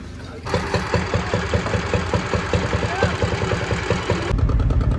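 A motorbike is ridden off a large ferry made of two boats joined together, its engine chugging in a rapid, uneven rhythm up close while a voice talks over it.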